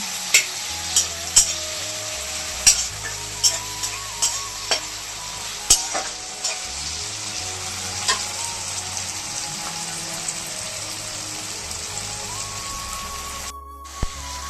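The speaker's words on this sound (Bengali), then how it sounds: "লঙ্কা কুচি দিয়ে দিচ্ছি ভালো করে নাড়িয়ে চেড়ে কষিয়ে নেব" Chopped green chilli stir-fried with tomato and onion in a pan, a steady sizzle under repeated scraping and clacking strokes of a spatula, spaced a second or so apart, with no talking.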